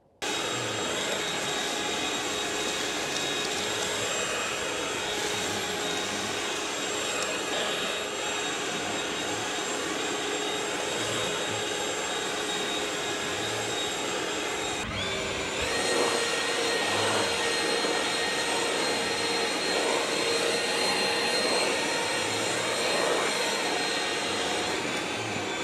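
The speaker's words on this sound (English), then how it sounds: "I have a few different places where I'm going to show you this backpack blower working." An ECHO DPB-5800T three-battery backpack leaf blower runs with a steady, loud airy roar, holding constant throughout and growing slightly louder and fuller partway through, with no talking.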